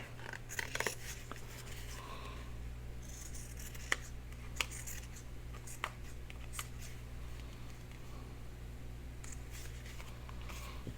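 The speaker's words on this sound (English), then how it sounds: "I'll go ahead and trim this off because it's going to be harder for me to see through this material." Scissors trim fabric up to an edge while making covered tags and pockets, producing scattered quiet snips and rustles over a low steady hum.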